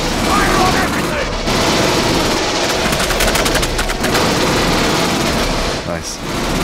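Dense, loud gunfire from marines' weapons in Aliens: Colonial Marines, a sustained wall of automatic fire and blasts with shouting voices buried in the din.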